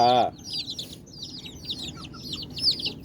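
Chicks and hens on a poultry yard, cheeping and clucking in quick repeated bursts while being caught; a brief loud squawk opens, then steady high chirps continue over rustling.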